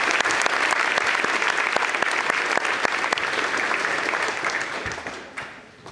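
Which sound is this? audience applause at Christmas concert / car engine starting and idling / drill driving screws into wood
audience applause at Christmas concert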